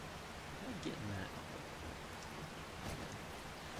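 Rain falls steadily in the survival game 7 Days to Die, a constant soft hiss of drops with faint low rumbles beneath it, continuing evenly throughout.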